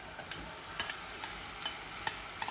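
Marinated chicken with ginger, garlic and spices stirred in a hot pan, a soft sizzle running underneath several sharp scrape-and-clatter strokes that fall at uneven intervals, close and fairly quiet.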